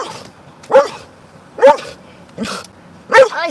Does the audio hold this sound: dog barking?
yes